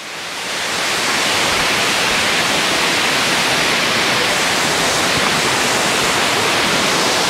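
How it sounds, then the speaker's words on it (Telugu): A waterfall at Yercaud hill station in Tamil Nadu roars in a steady, dense wash of rushing water, loud and close, with no break over the whole stretch. "యార్కాడ్ వాటర్ ఫాల్స్ చూడండి"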